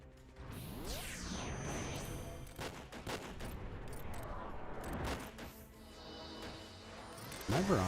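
A Barrage ranged attack in Final Fantasy XI, heard as a rapid burst of sharp mechanical shots and clanks with sweeping whooshes, ending in a louder impact. A faint game backdrop runs beneath it.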